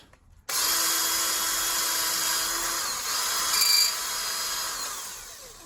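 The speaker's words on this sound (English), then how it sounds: "Let's drill it out." A power drill starts abruptly and runs steadily for several seconds, whining loudly as it drills out a nut on a McPherson strut, with a brief rise in pitch near the end.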